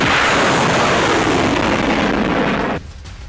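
Dense, loud roar of artillery and explosions in war footage, a continuous rumbling barrage that cuts off abruptly near the end, leaving quieter background noise.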